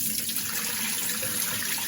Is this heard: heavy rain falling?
no